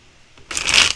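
Tarot cards are shuffled in one brief, close burst of crisp riffling flutter that starts about halfway in, after a quiet lead-in.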